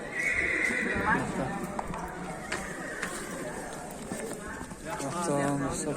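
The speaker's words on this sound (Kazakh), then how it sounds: "Ого, жылқылар." Horses neigh and whinny at the Sokuluk livestock market, with one loud whinny near the start and another near the end, hooves clip-clopping and people talking throughout over the busy market murmur.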